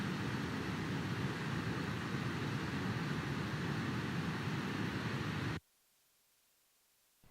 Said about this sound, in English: The last track is simply an audio recording of the ocean.